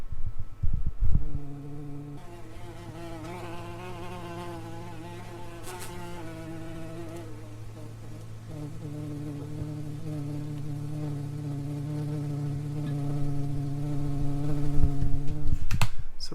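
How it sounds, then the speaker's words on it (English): A swarm of bugs buzzing around an outdoor camera in a yard, a steady, close droning hum with several overlapping wing tones wavering in pitch, growing slightly louder toward the end. "there's something going on around that camera that has attracted a bunch of bugs"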